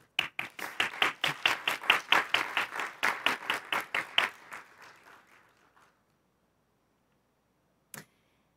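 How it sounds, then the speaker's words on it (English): A round of applause for a youth peace medal nominee at a school board meeting, distinct individual claps in a quick rhythm for about five seconds, thinning out, then one last clap after a pause. "Round of applause."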